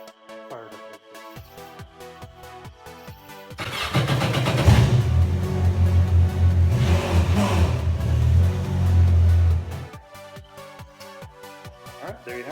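A 2016 Yamaha VXR jet ski with a 1.8 liter engine starts up and revs over several seconds, a loud mid-range roar rising and falling, set between quieter stretches of background music.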